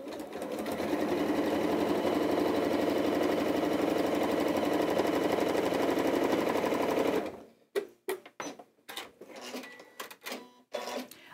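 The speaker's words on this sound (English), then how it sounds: "So I'm going to just sew these together as you just normally would." A sewing machine stitches two pieces of fabric together in a loud, steady, rapid run for about seven seconds, then cuts off into sparse clatter and handling noises.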